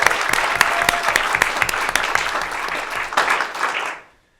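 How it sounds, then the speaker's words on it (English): A school board meeting audience gives a round of applause, dense sustained clapping with sharp individual claps standing out, continuing for several seconds before abruptly cutting to silence. "Can we give them all a round of applause again?"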